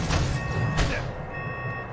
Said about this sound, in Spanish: Eso es una alarma, no una torreta